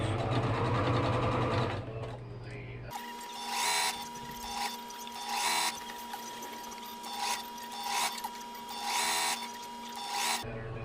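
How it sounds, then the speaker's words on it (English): A sewing machine runs in short bursts along a wedding dress seam, its motor whirring in repeated runs with brief pauses between, close by and moderately loud after an opening stretch of other machine noise. "And I'm just going to sew them right down, right on where my other seam line is."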